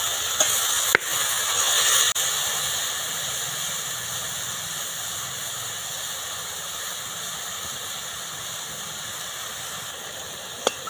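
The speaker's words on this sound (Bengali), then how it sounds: "তেলটা গরম হয়ে গেছে তেলের মধ্যে দিয়ে দিচ্ছি ঝিঙেগুলো" Ridge gourd pieces dropped into hot white oil in a wok, a loud, steady sizzling hiss filling the whole stretch, with a couple of sharp knocks near the start and a faint one near the end.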